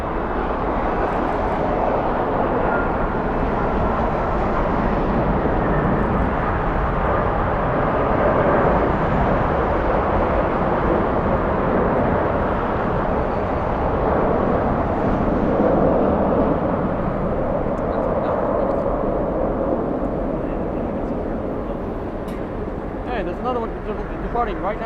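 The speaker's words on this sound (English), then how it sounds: "We have another 757. Short final, flying in from Dulles, United Airlines 14." United Airlines Boeing 757 airliner on short final landing at LAX in strong winds, a loud broad roar of engines and gusting air that holds steady and eases slightly near the end, with talk mixed in.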